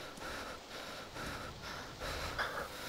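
A character in the video game DayZ pants heavily, with quiet, rapid breaths in a steady rhythm of about two per second.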